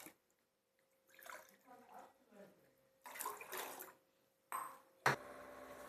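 Water splashes and pours into a pan in short bursts for white rava upma, separated by quiet pauses, with a sharp clink and a pan sizzle at the end.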